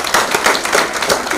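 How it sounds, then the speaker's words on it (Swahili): Applause for Margaret at a county primary care network meeting, a short burst of rhythmic clapping from a small audience, fairly loud and close. "Wacha tumpigie makofi Margaret."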